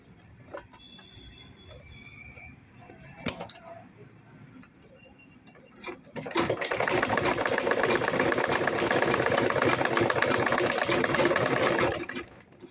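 A sewing machine stitching a chain bag, with quiet handling clicks and bumps for about six seconds before the motor starts, then a loud, steady, close mechanical whir and rapid needle ticking that runs until it stops near the end.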